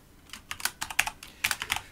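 Rapid bursts of keystrokes on a computer keyboard, close and crisp, clacking in quick irregular clusters with no voices over them.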